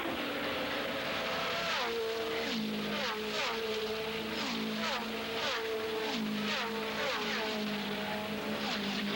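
Indy 500 race cars scream past in a pack after a restart, overlapping engine whines rising and falling in pitch as they pass, steady and loud throughout with a commentator speaking over them.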